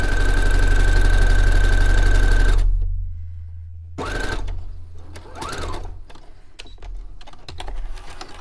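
A sewing machine runs in a fast, steady whir of stitching for a couple of seconds, stops, then starts again in shorter bursts with brief pauses between them.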